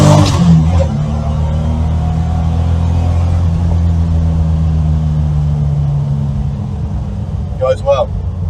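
A rare Bathurst LC GTR XU1, a barn find that sat for 36 years, accelerates on the road with a loud, steady low engine drone that rises under throttle and continues close throughout.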